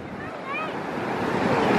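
Ocean waves wash up onto a sandy beach in a brief, swelling rush of surf with wind noise, growing louder toward the end as children's voices chatter faintly over it.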